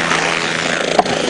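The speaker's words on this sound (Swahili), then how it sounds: "ngojeni chopa iruke kwanza." A helicopter at an outdoor political rally gives a continuous loud rotor and engine roar, with a brief faint knock partway through and no clear voices.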